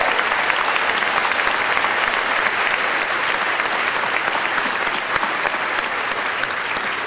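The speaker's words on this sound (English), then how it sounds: "So if I could just give you a round of applause." A commencement audience at the 2012 USC Annenberg School of Communication ceremony applauds the graduates, dense, sustained clapping from a large crowd in a big space, loud and even from start to finish.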